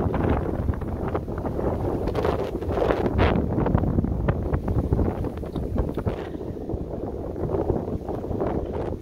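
Strong outdoor wind buffets the microphone in a loud, continuous roaring rumble with gusty surges throughout, at a wooded historic site in Shasta, California; no talking.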